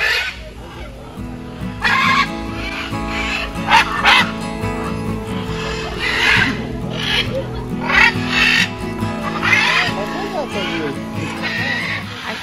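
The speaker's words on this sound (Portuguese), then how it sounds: "Agora a gente vai ver o viveiro das araras." Macaws squawk and screech in loud, harsh bursts inside an aviary at Parque das Aves, the calls repeating in clusters over a busy background murmur of visitors.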